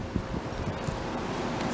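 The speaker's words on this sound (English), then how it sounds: "I'm sorry for the wind, cause it's really windy" Outdoor wind buffets a handheld microphone in a steady, low hiss and rumble. The gusts stay close and fairly faint throughout.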